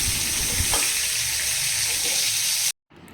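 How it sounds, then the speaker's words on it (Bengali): Koi fish rubbed with salt and turmeric frying in oil in a pan, giving a loud, continuous close-up sizzle and hiss that cuts off abruptly near the end. "এখানে ভেজে নিচ্ছি কই মাছগুলো লবণ হলুদ মাখিয়ে রেখেছিলাম"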